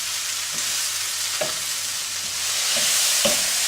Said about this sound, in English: So that's sizzling away really well.